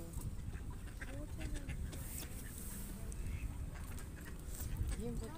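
Ducks quack faintly by a lake that is soon to freeze, scattered calls over a constant muffled background while a person speaks nearby.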